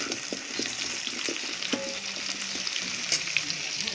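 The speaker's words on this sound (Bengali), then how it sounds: "তো এখন আলুটা ভাজা হোক" Potatoes fry in hot oil, giving a continuous close sizzle with scattered crackles and light stirring clinks, steady and unbroken with no voices.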